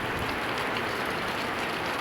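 Rain falls steadily outdoors as a dense, even hiss of drops on surfaces, moderately loud and unbroken throughout, with no voices.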